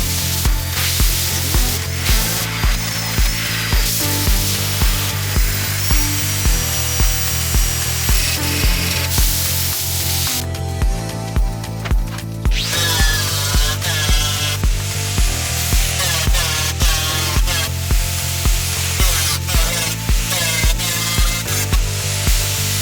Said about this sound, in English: Now it's the turn of the finger sander to get into those hard to reach areas.